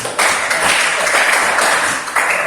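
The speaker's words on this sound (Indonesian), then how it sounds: "Oke, baik, tepuk tangan untuk" Classroom applause from students during a music lesson, a dense, steady patter of many hands clapping together for a couple of seconds, fairly close and even.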